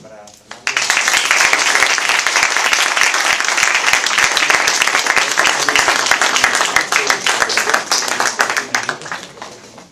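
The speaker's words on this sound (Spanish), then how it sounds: "un aplauso para Fernando" An audience at a young writers' literary gathering breaks into loud, sustained applause for Fernando Arrabal, dense clapping that starts abruptly and continues for several seconds before starting to thin out.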